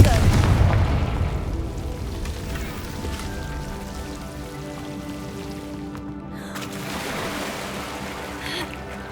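In Hogwarts Legacy, a Confringo spell bursts with a deep, booming explosion that swells loud and rumbles away, followed by a softer second rush later over a low game ambience.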